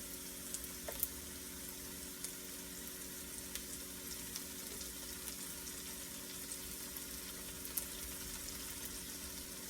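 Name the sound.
butter sizzling as it is added to a hot pan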